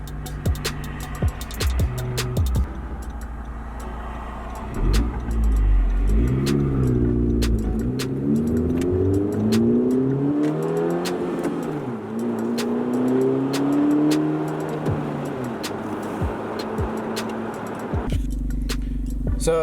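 A car engine with a deep, raspy AWE Touring aftermarket exhaust idles, then revs up repeatedly in rising and falling pulls before settling back to a rumbling idle; no talking.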